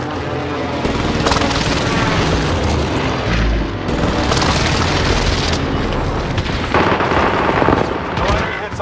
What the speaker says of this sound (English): Designating target for airstrike. This is Phoenix 3. Strike inbound.